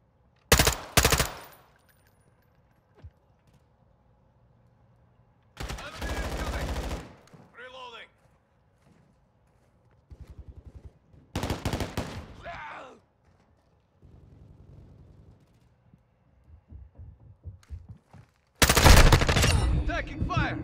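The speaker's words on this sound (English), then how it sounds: "Taking fire!" Call of Duty video game gunfire comes in loud, separate bursts of rapid automatic fire with quiet gaps between them. Softer mechanical clatter and faint voices sit between the bursts.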